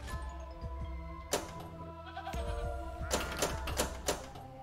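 A sheep bleats as a game sound in Neon Nights pinball, a short burst over busy machine tones, electronic jingles and clicking flipper and ball hits.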